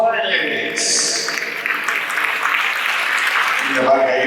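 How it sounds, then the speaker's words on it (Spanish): An audience at a sports gala claps steadily and fairly loudly over a hall's reverberant murmur, with people talking and cheering through the applause. "ese fortísimo aplauso para ellos"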